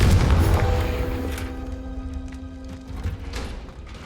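A deep, booming Confringo blasting spell explosion from Hogwarts Legacy hits loud and heavy at the start, then its rumbling tail and faint ringing debris fade out over the next few seconds.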